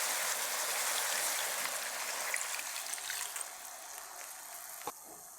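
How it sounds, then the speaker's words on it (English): Water being poured into a pan of frying chicken in sesame oil, a continuous splashing hiss and sizzle, close and fairly loud, tapering off near the end with a single sharp clack. "Next, pour in 100 ml of water."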